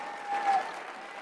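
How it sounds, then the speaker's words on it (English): Women in a political conference audience cheer and applaud, a steady crowd roar with clapping that swells briefly in the middle, continuous for a little over a second. "it's all the women cheering."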